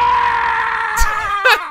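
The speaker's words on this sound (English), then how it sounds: "he has like a scream and agony he'll do" A loud, drawn-out scream of agony from a Mr. Bean soundboard in the video game Forza Horizon 5, a sustained strained wail ending in two short sharp bursts.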